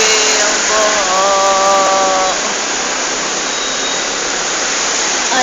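Rushing floodwater pours through a Recto street, a steady loud broadband roar throughout, with a faint tonal whine in the first half.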